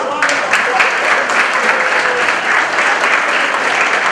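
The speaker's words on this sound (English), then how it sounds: "Let's give her a round of applause." A large audience applauds loudly and steadily at a men's health summit held at a Boston community health center, a dense, continuous wash of clapping that fills the whole stretch without a break.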